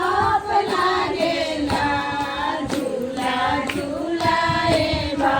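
Hands clap in a steady rhythm along with group devotional singing to the mother goddess during a Jitiya fast gathering, with the claps sounding clearly under the loud voices throughout.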